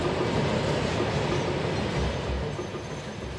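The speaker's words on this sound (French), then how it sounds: "They say this is the longest train in the world. 3 miles of wagons." A very long freight train rolls across the Sahara in Mauritania with a continuous loud rumble and rattle of wagons, broadband and steady, with low thuds of the cars underneath.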